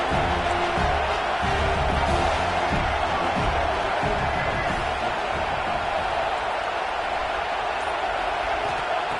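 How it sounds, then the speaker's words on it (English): A large video game stadium crowd at a Michigan at USC college football game roars continuously, a dense, loud wash of noise with a few louder swells and thumps. "This crowd is trying to inspire this defense to make a big red zone stop."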